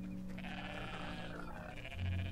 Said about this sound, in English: It's a bighorn sheep.